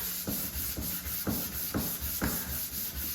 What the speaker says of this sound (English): So I'm just giving this a good sand off.